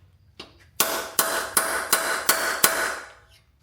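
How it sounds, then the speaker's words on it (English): Seven sharp metallic hammer strikes on a center punch marking a broken head stud on an SR20DET engine, one faint tap then six hard blows in a steady rhythm, close by with ringing decay. "you'll want a nice heavy hammer for this because you want a good indent on this"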